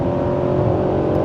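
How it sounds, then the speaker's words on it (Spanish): 2025 Cadillac Escalade Sport Platinum accelerating, a steady close engine and road rumble heard from inside the cabin, continuous and fairly loud over the short stretch. "simplemente presionas el acelerador y nos vamos"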